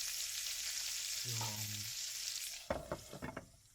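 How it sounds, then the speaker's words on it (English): Beef cutlets frying in salted butter give a soft, steady sizzle, then a brief tonal clink and a few sharp knocks of cookware near the end. "because the butter I'm frying them in also contains salt"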